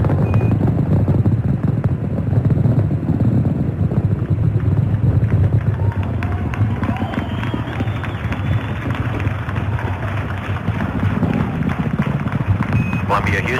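Space Shuttle Columbia's main engines roar during launch as they throttle up to full thrust: a continuous deep, rough rumble with wind-like noise, and a faint radio voice comes through underneath.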